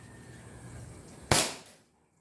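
A single sharp shot from an upgraded airsoft pistol fires close by, a loud crack with a quick decaying tail that then drops into silence.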